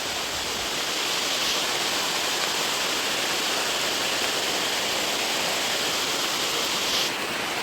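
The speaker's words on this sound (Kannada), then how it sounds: "ಜೋರ ಮಳೆ ಬರ್ತಾಯಿದೆ" A heavy downpour drums down across an areca plantation in a continuous, loud, unbroken wash of noise with no voices.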